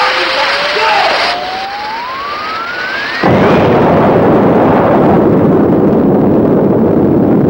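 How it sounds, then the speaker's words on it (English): In the 1957 film Invasion of the Saucer Men, a loud explosion effect bursts in, its broad roaring blast cutting over a rising whistling tone and a noisy, tense score that swells and continues after the hit. "Looks like there's been some kind of an explosion over in Pelham Woods."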